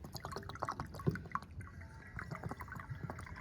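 Liquid pours and splashes unevenly into and around a container during work on a 4Runner with a blown head gasket, a close, quiet irregular trickling and dripping with small spattering bursts.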